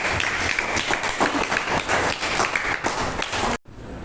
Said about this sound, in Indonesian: beri tepuk tangan buat Aisyah